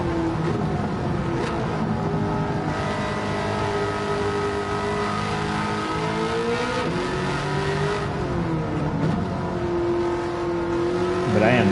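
Gran Turismo 7 race car with a swapped-in Trans Am engine, held at a steady, droning engine note that rises and dips slightly through shifts and throttle changes, loud and continuous for the whole stretch.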